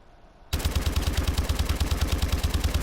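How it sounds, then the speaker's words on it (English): A Pytaek gun set to 666 RPM fires in Call of Duty Advanced Warfare, a loud, close burst of rapid evenly spaced shots that starts abruptly and continues without pause. "here's the normal recoil of the 666 RPM Pytaek"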